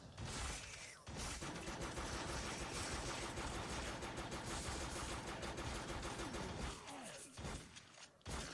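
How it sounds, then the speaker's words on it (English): Rapid gunfire from the PlayStation 4 game Crimonsland fills nearly the whole stretch, a dense loud barrage of shots with mechanical clatter, breaking off briefly near the start and again toward the end. "So I have a shotgun now, which is nice."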